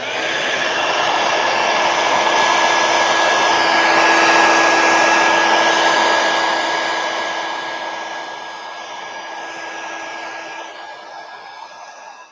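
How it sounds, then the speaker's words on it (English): Heat gun blowing hot air during a craft project, a loud steady close whoosh with a constant motor hum, slowly fading toward the end, with no talking. "All right, heat gun."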